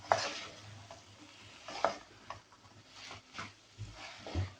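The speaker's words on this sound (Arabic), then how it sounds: "ونحركو مزيان." Vegetable soup being stirred in a pot with a spoon, giving soft repeated scraping strokes over a quiet bubbling sizzle, close and gentle, with a few light knocks against the pot.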